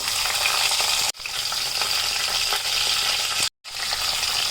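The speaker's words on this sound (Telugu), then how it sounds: "ఇప్పుడు పెట్టుకొని ఆయిల్ పోసుకుందాం. ఆవాలు, జీలకర్ర, పచ్చిమిరపకాయలు" Mustard seeds, cumin and green chillies sizzle in hot oil in a pan, a loud continuous close crackle with two brief breaks.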